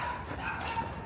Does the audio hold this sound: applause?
no